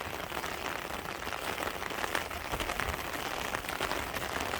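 Midday rain falling over rice paddies, a steady dense patter of drops on surfaces, fairly quiet and even throughout with no voices.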